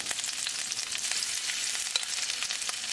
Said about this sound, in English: Now we're going to lay down the shrimp.